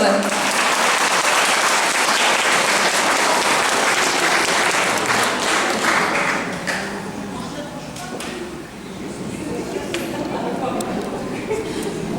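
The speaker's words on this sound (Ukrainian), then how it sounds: "Давайте привітаємо оплески." A large audience at a volunteer awards ceremony in Odesa claps loudly and continuously throughout, easing slightly midway before swelling again. The applause is thick and sustained, with voices faintly beneath it.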